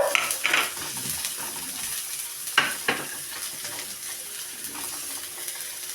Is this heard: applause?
no